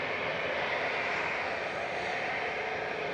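An EasyJet Airbus A320neo jet at Manchester Airport gives a steady, continuous engine roar at moderate distance, with no talk over it.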